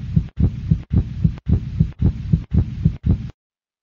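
A steady heartbeat for a heart anatomy animation, about six or seven deep, muffled double thumps in an even rhythm, loud and close, then silence.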